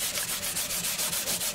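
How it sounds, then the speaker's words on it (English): 400-grit sandpaper lightly rubs a guitar's finish in steady back-and-forth strokes, close and soft, a rhythmic hissing scrape repeating about every fifth of a second with no talk. "This is 400, and I'm just going to sand lightly first and see how it goes."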